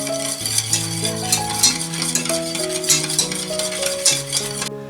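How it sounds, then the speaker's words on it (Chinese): Egg yolks and fine sugar stirred continuously over low heat for a no-bake tiramisu, a steady close scraping and swishing of a whisk against the bowl over a layer of instrumental music. "不停地搅拌"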